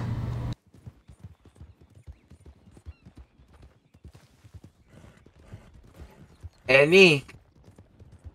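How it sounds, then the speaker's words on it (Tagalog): Horse hooves clip-clopping in a video game as characters mount up, a steady soft rhythmic patter running under talk, with a brief loud burst near the end. "Sakay na kayo sa kabayo."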